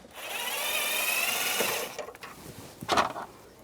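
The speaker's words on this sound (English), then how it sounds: "Use a Phillips head screwdriver, take this screw out." A Phillips head screwdriver backing a screw out of a 1999-2006 Chevrolet Silverado 1500 dashboard panel, heard as a close whirring, grinding rasp for about two seconds, then a few brief clicks and scrapes.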